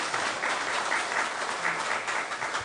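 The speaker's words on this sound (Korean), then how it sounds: "뜨거운 박수 부탁드립니다" Warm applause from a church congregation at an ordination thanksgiving service, dense and steady continuous clapping throughout, moderately loud and heard without talk.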